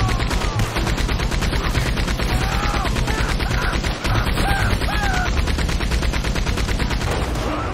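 A Gatling gun in Red Dead Redemption 2 fires a dense, continuous stream of rapid shots that stays loud and unbroken for the whole stretch, with faint voices beneath.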